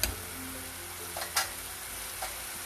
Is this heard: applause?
no